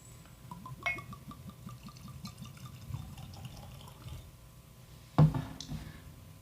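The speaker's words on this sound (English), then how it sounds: "let's go ahead and get it cracked open and have our first pour" Dewar's 12 year blended Scotch whisky trickles and glugs into a glass in a soft, uneven stream, followed by a sudden louder knock near the end.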